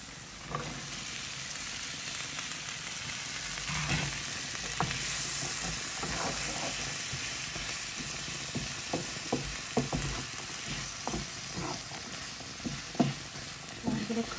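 Kidney beans sizzle in a pan with cooked onion, tomatoes and spices for a South Asian dhaal, a steady close frying hiss broken by scraping stirs throughout.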